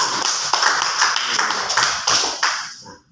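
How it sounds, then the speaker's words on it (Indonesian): Students in a classroom clap their hands together, a brisk burst of overlapping claps with a few sharper individual slaps, loud and close, ending abruptly. "Tepuk tangan"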